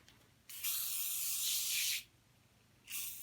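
Decarbonizing foam sprays onto engine pistons in a 2010 Ford Taurus SHO, heard as two loud bursts of close hiss, the first lasting about one and a half seconds and the second starting near the end, with no talking.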